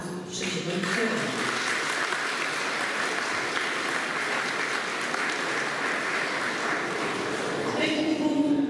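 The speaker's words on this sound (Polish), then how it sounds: "Brawa dla trzeciego liceum." Sustained, dense applause from an audience at a high school graduation farewell ceremony, loud and steady for several seconds, with a voice briefly speaking at the start.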